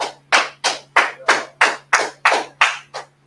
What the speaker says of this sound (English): clap it up for that young man.